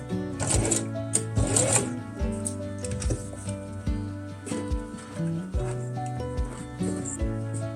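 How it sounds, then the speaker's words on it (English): A sewing machine top stitching fabric along a stripe while sewing a tie-front top, running in steady rapid bursts of needle clatter with brief pauses between runs, close and clear. "Then I'm going to do another top stitching over there."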